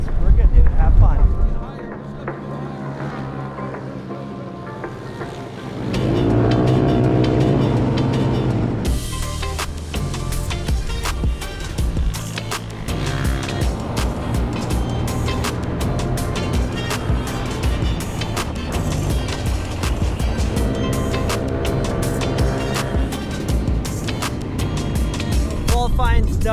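Polaris RZR 200 karts race on a track, engines buzzing and revving loudly with shifting pitch as they pass, a continuous motor roar with strong wind-like noise over it.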